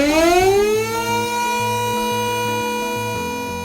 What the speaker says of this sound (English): the signalling will be a long siren whistle